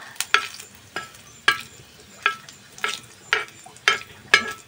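Garlic and chillies sizzling in hot oil while being stirred, with a steady frying hiss and a series of regular scraping stirs, about eight strokes, close and moderately loud, with no talking.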